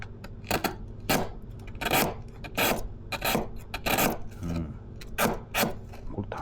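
A bartender cuts a block of ice with a knife, giving close rhythmic rasping scrapes, about a dozen strokes with short gaps and one brief clink midway, no voices.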